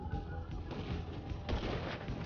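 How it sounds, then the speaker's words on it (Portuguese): Gunfire in the video game GTA V during a yacht defence mission, a dense run of muffled booming shots and thuds spread across the whole stretch, with no talk over it. "Me fez errar o tiro, Gabi."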